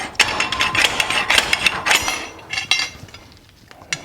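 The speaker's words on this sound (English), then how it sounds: "I have this janky little slide hammer that I made" Repeated sharp metallic clanks from a homemade slide hammer pulling a broken rear axle shaft, a rapid irregular series of hard knocks that thins out toward the end, close and loud.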